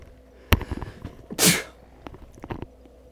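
A single loud human sneeze bursts out mid-clip between softer clicks and movement sounds, set against game audio from Dark Souls Remastered.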